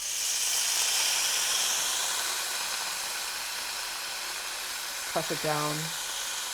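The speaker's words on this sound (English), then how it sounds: "Before we start on the duxelle, I'm gonna sear this tenderloin." Beef tenderloin searing in a hot pan, a steady loud hiss and sizzle throughout, with a brief voice speaking near the end.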